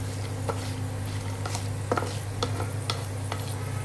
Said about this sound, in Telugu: కొంచెం ఇలా మిక్స్ చేస్తూనే ఉండండి